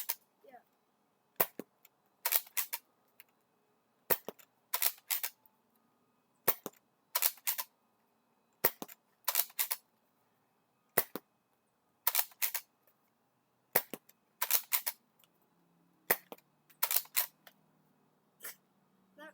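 A Nerf N Series Pinpoint blaster fires darts repeatedly, each shot a sharp, close snap often paired with the clack of the slide, spaced irregularly across a quiet room.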